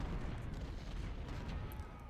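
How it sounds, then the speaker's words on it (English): Cannon and artillery fire in the Civil War strategy game Ultimate General: Civil War, a dense continuous low rumble of booms rolling together at steady loudness without pause. "And as the cannon go off"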